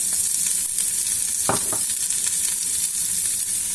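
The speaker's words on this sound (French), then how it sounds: "Je vais touiller un petit peu." Lentils, onions, carrots, garlic and spices stirred in a hot frying pan give a steady close sizzle, with a few scraping strokes of the spoon across the pan and no talk.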